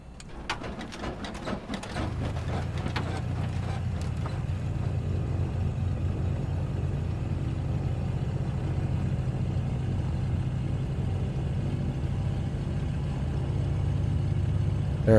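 Black Square Analog Baron piston engine in Microsoft Flight Simulator cranking with a quick series of clicks and coughs, then catching into a steady low idling rumble that holds throughout.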